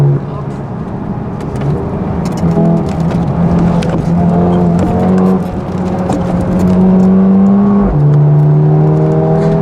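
Mercedes A35 AMG accelerating hard on a road, engine tones climbing through gears with a shift around the eight-second mark, loud cabin drone with a voice talking over it.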